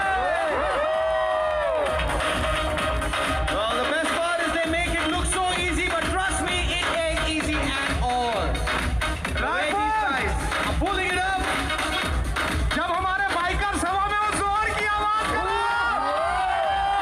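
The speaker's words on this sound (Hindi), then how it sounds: "तालियां रुकनी नहीं चाहिए इन बाइकर्स के लिए।" Outdoor crowd at a bike stunt riding show in a market square cheering, whooping and shouting continuously, while an announcer talks over amplified music and the noise stays loud throughout.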